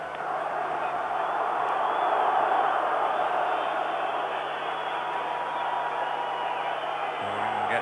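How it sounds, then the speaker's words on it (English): A football stadium crowd at a 1993 World Cup qualifier between Turkey and England at Izmir's Ataturk Stadium, a dense, sustained roar of booing that stays loud and steady throughout. "Crowd booing."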